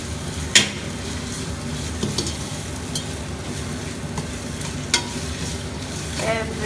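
Spice paste with onions, shallots, green chilies, mint and whole spices is stirred in a pot for biryani, a continuous sizzle broken by sharp scraping and clanking spoon strokes at irregular intervals, with no voices.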